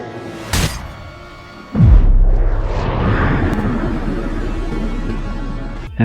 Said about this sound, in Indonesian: Bom nuklir pun meluncur dan meledak di atas kota Raccoon City.